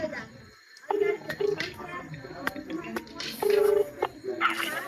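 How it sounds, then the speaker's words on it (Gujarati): A phone call is dialed with a few short electronic beeps, including one longer tone, heard under steady nearby conversation. "ફોન કરવો પડશે."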